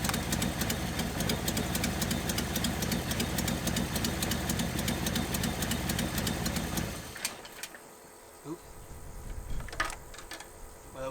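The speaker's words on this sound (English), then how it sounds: "It'll just idle, clean up, get worse, get better, get worse, and then it'll just die." A neglected Datsun 280ZX that sat for 15 years idles roughly, a loud steady engine rumble that cuts out about seven seconds in as the engine dies, leaving quiet ambience with faint birds.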